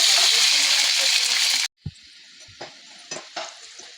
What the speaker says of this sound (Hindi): एफ से हमें मिल गए हैं फ्रेंच फ्राइज, तो अब हम इन्हें करेंगे फ्राई